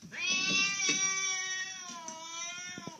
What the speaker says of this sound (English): Why are you so mean to me, Kitty?